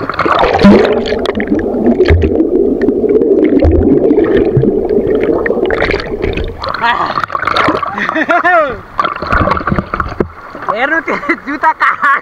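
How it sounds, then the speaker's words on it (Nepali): Someone plunging into water in the countryside, with churning splashes and sloshing up close, followed by loud, excited voices and vocal sounds. "म अब पानीमा डुब्छु"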